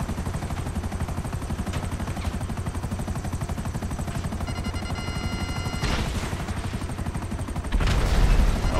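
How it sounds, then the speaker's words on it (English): A helicopter's rotor chops steadily overhead in GTA 5 Online, mixed with bursts of gunfire and a louder rumble near the end. "There's a helicopter above."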